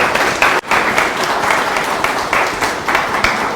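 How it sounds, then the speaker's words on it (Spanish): An audience at an electoral-calendar training session applauds a speaker, Dr. José Manuel Villalobos: steady, dense clapping from a crowd sustained throughout, with a brief dip near the start. "Un fuerte aplauso, por favor"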